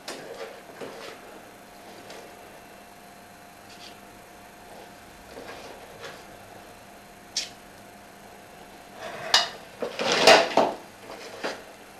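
A metal muffin tin lined with muffin cases is handled on a quiet worktop: sparse light clicks and taps, then a brief cluster of louder clinks and rattles near the end.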